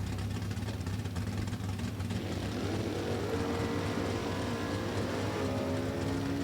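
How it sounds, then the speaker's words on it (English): A small-block Chevrolet 282 cubic inch engine in a Super Stock drag racer at a raceway roars loud and steady, its pitch climbing partway through as it revs up. "Small block Chevrolet is going to be screaming high C's, leaving the starting line."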